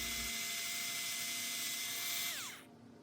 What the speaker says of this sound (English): I am just drilling a hole straight through the middle of the triangular piece.